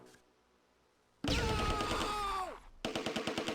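Gunfire from enemy soldiers along a main street in Close Combat: A Bridge Too Far, Operation Market Garden at Veghel: a loud burst with a descending tone, then a quick rhythmic string of machine-gun shots.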